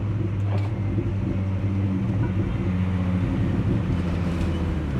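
A Volkswagen Golf VR6 with front-wheel drive and new suspension idles and revs, a loud continuous low exhaust rumble with faint crackles near the start, no talking.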